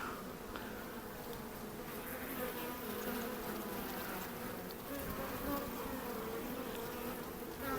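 Honeybees buzz around a hive at an apiary after a swarm. The hum is dense and continuous, close and steady throughout, with no voices.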